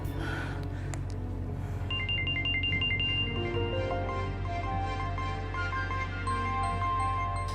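A telephone ringtone plays as a melodic electronic tune of stepped beeping notes over a steady low hum and background noise, continuous for several seconds with no speech.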